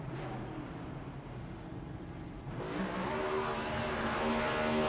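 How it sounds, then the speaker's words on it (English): A stock race car at Dover performs a burnout, its engine droning steadily and then rising as the revs climb, heard at a moderate distance with no talk. "He does a fantastic job at burnouts"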